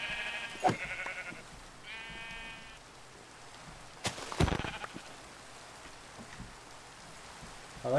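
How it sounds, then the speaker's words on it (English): Sheep in the Minecraft video game give two short bleats over a soft rain-like background, with a couple of sharp clicks between them. "Oh, they're sheep, so we can actually kill them."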